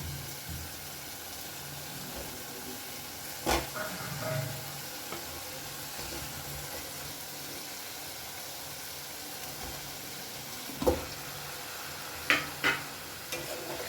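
Pre-fried chicken pieces dropped one by one into masala for chicken jahangiri: a low, steady sizzle broken by a few sharp clacks and thuds of pieces landing and being stirred, close and quiet, no speech.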